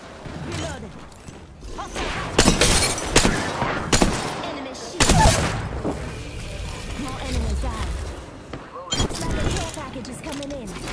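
Gunfire bursts in an online shooter video game crackle loudly in rapid clusters, mixed with whooshes and mechanical clicks, while a game announcer's voice speaks over the action throughout.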